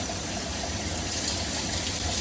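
Luxury shower running steadily, a constant broadband hiss of spraying water that stays even and unbroken throughout.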